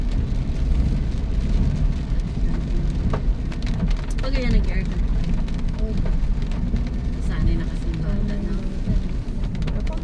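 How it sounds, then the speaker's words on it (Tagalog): Heavy rain drums steadily on a car during a dark night ride, a dense constant patter over low road rumble, with a voice speaking briefly partway through. "malakas ang ulan"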